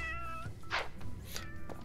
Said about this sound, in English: This damn cats, shut up.